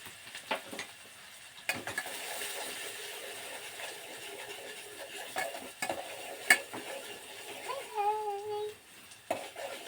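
Chopped onion frying in hot oil in a pan for a sev and peanut bhajiya curry, a faint steady sizzle with occasional scrapes and stirring clinks of a utensil.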